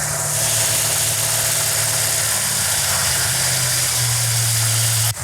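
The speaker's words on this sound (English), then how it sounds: "That's a good idle right there for right now." A Dodge Charger V8 idles steadily just after cam break-in, a loud close rumble with a slightly high, even idle that holds alone for several seconds and dips a little as it settles.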